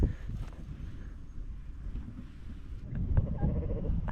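Sheep in a New Zealand field bleating once or twice over steady outdoor rumble, the calls moderately close with a louder burst near the end; no voices.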